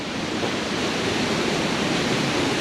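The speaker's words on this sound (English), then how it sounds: "There's another mad waterfall down here." A powerful waterfall beside a hillside path roars in a steady, dense rush of falling water, close and loud with no pauses and no voices.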